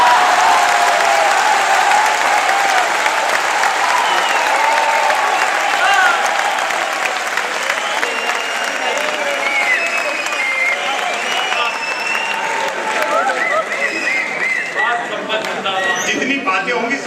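Audience applause at a Hindi poetry gathering (kavi sammelan), a loud, sustained wash of clapping from a large crowd that runs the whole time, thinning slightly toward the end with scattered voices.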